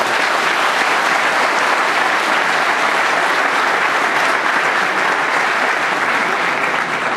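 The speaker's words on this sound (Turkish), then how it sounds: "Onlara buradan bir moral alkışı göndermek istiyorum." Loud, dense audience applause fills a youth branch party congress hall in Şanlıurfa, a continuous even roar of many hands clapping throughout without a break.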